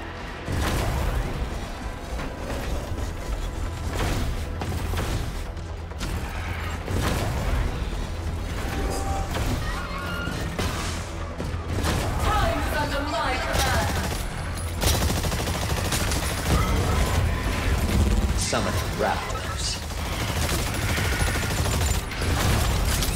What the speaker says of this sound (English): Deadeye strikes with gunfire and grenades.